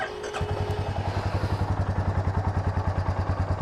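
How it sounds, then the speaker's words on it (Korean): A Royal Enfield Meteor 350 single-cylinder motorcycle starts up and settles into a steady low exhaust thump, an even rhythmic pulse heard close with no talking. "이 메테오 350 한번 시승을 시작하기 전에 한번 배기음이 또 궁금해 하실 테니까 배기음을 한번 들려드리고 시작을 해볼게요."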